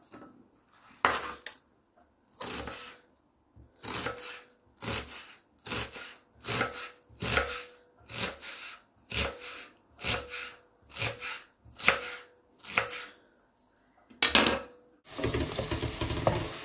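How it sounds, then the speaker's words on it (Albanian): Knife chopping an onion on a wooden board for spaghetti sauce, about a dozen crisp, evenly spaced cuts close by with no talk, followed by a brief rustling scrape at the end. "Për ta bërë salcën sa më të shijshme, do të grijmë një kokë të qep"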